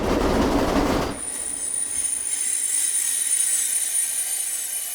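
A train sound effect in a tabletop role-playing game: a loud rumble of rolling carriages cuts out after a second into a sustained high wheel squeal over a quieter running hum.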